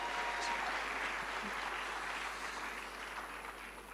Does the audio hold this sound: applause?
yes